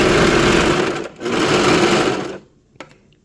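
Sewing machine stitching fabric for a pet dress, running in a fast steady whirr for about a second, pausing briefly, then running again before stopping, followed by a small click.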